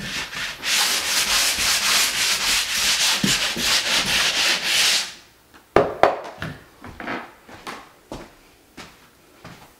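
Drywall corner being sanded with a sanding tool during house reconstruction: about five seconds of loud, steady abrasive rasping, followed by a series of scattered knocks and clatters as the tool is handled.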